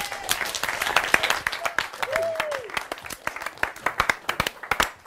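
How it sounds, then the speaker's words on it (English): Audience applause at a live TV show as a contestant walks on, steady dense clapping throughout with crowd noise and a brief whoop mixed in. "Keep clapping, it's a long walk."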